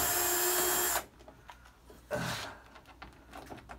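A cordless lithium drill spins out screws from a Samsung top-load washer: one loud whirring burst up front, a quiet pause, then a second shorter run, close by.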